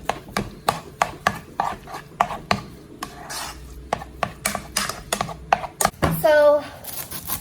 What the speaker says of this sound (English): So we're going to cut our onion now, just to get it over with